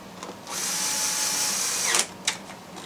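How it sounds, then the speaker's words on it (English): A cordless power drill runs steadily for about a second and a half while driving screws into plastic car interior panel parts during a dashboard bulb swap, then stops, followed by a couple of short clicks and bursts. "Change the setting on my drill."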